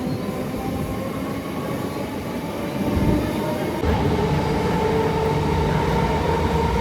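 Inside a moving passenger train, a steady close rumble of wheels and carriage fills the space, growing louder and heavier partway through and then holding constant.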